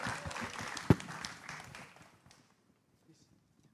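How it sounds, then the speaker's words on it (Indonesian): A crowd at a collaborative music performance between Hanyang University and ISI Solo gives a short burst of clapping that dies away after about two seconds, leaving near silence. "Tepuk tangan sekali lagi dong"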